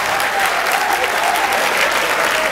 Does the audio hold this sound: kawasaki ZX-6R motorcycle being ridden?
no